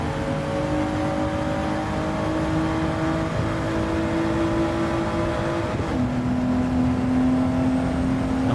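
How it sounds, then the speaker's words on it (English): A Gran Turismo 7 race car engine droning at steady high revs, with a sustained buzzing tone that shifts pitch partway through, continuous and loud. "I like the engine noise, man. It's pretty cool."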